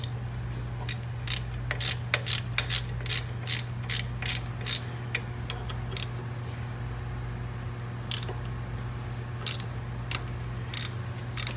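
Ratchet wrench clicking as brake caliper bolts are removed from a car, repeated bursts of sharp rapid pawl clicks, close, over a steady low hum.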